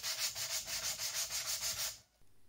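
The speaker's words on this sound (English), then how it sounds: "I sanded away the burrs that were left by my brute force" Hand sanding burrs off an aluminium block for a CNC3040 machine, a steady back-and-forth rasp in about a dozen even strokes, close and moderately loud, stopping near the end with no talk.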